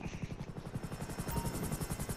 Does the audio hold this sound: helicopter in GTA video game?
yes